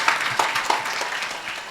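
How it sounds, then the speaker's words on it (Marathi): Audience applause at a kirtan during a housewarming (vastu shanti) ceremony: a steady burst of many hands clapping with a few sharper claps, moderately loud and continuous. "एकदा जोरदार टाळ्या उद्या त्यांच्याकरता"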